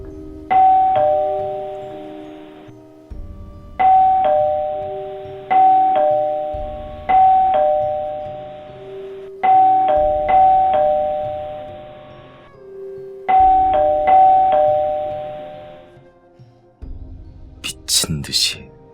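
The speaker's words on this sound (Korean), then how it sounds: "미친 듯이 울리는 초인종 소리." Doorbell chimes ring over and over in a frantic sequence, five ding-dong bursts in a row, loud and close, ending in a short electronic noise.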